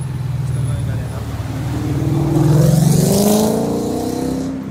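A V8 car engine revs up loudly nearby, its rumble climbing steadily in pitch to a peak and then easing back slightly.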